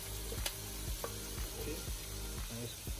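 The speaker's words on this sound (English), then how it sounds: "Now we add our chopped veggies and add the beans." Chopped vegetables and beans sizzle steadily in a hot pan after onions and garlic, a constant frying hiss broken by scattered clicks and scrapes of stirring, close and moderately quiet.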